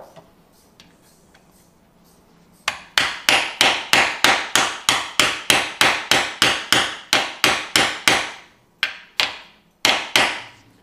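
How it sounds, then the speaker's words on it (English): Repeated hammer blows drive a pilot bearing into a car's flywheel through a socket during a Gen2 GR86/BRZ transmission job, about twenty sharp metallic strikes in steady rhythm after a quiet start, with a few spaced final hits. "So I just take a socket and hammer,"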